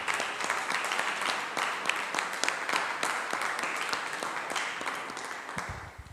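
Sustained applause from a church congregation during a worship service, steady dense clapping at moderate volume with a faint voice underneath.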